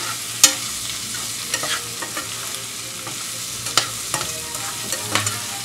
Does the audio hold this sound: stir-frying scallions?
yes